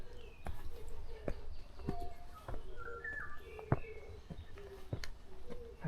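Close bird calls in a forest: short, clear chirping notes repeat at irregular intervals over soft rustling and a few sharp clicks, with no talking.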